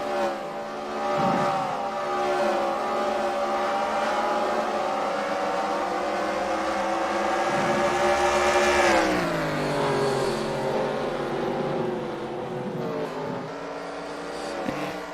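Sprint race cars roar around the Knoxville dirt track at the Knoxville Nationals, a loud continuous engine howl that rises and swells as a pack passes close by midway, then fades slightly.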